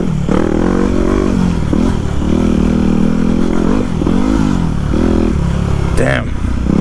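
Street bike ridden hard along a swampy woodland trail, its engine chugging and revving in repeated surges close to the rider, with clattering and scraping from the rough ground throughout.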